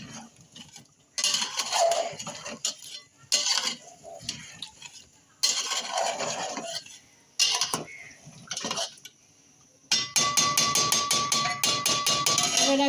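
Mutton and fried potato pieces are stirred in a curry pot in bursts of metallic scraping and clinking of a spoon against the pot, separated by short pauses, ending in a rapid, steady run of clanks.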